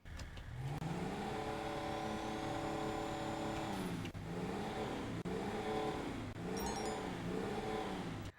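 A Declasse Rancher XL truck engine in GTA Online idles, then revs repeatedly, with four or five rising and falling surges and short gaps between them, heard clearly without talk.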